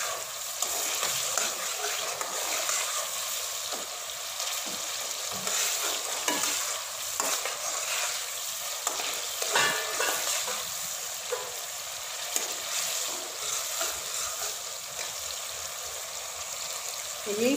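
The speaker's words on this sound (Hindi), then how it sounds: "हाई फ्लेम पे इसको अच्छी तरह से हम भून लेंगे, क्योंकि टमाटरों के जो कच्चापन होता है ना वो ख़त्म हो जाए" Tomato masala for chicken karahi frying on high flame, a steady dense sizzle with repeated scraping stirs running throughout at close range.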